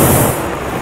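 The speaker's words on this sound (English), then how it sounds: "What you think about this air sound," An air brake in American Truck Simulator, changed by a sound mod, lets out a loud, close hiss of released air that starts strong and tapers slightly over under a second, with no talk.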